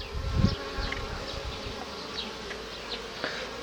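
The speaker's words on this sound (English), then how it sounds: "Bees floating around, things floating around on top of the water." Bees buzz around an unlined open well in a Gambian village, a soft continuous hum with brief nearer passes of individual insects.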